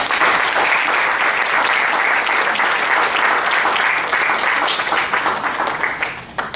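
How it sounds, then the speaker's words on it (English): Loud, sustained applause from a crowd at the YB Sangam 2018 event, steady clapping throughout that thins slightly toward the end. "we have to give a big round of applause to them"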